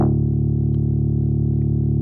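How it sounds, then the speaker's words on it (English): A synth patch in Ableton Operator with filter drive turned up for distortion, a loud sustained buzzing drone with rich stacked harmonics holding steady throughout, alone with no talk. "if you go into filter properties here, you got filter drive. So this will give it some distortion"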